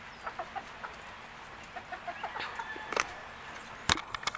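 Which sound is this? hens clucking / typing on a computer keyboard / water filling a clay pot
hens clucking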